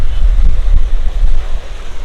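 Sea waves wash onto the rocky shore of Bheemili beach in Vizag, making a loud, steady roar. Heavy wind buffets the microphone and no one speaks.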